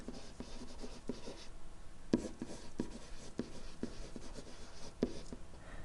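Marker or chalk writing a sentence on a classroom board during a geometry lesson on congruence transformations, a steady run of close scratchy strokes and taps with brief pauses between words.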